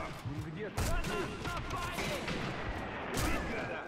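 Rapid semi-automatic sniper rifle shots in Sniper Elite V2 crack out in a quick string of bursts, with a louder shot near the start and another near the end, under someone talking in French.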